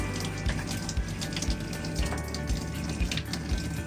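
Water rushes forcefully through a newly installed Carico/Nutraway water purification system, a loud steady gushing flow like a running tap with periodic low thumps, close and continuous, without speech.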